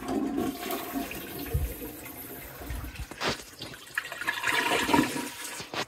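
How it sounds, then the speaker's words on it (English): A toilet flushes close by in a small bathroom, a rushing gurgle of water that swells and drains across several seconds, with dripping and trickling near the end. "I'm going to flush it"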